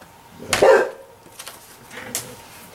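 A single sharp dog bark close by, followed by quieter scattered noises and a fainter second yelp.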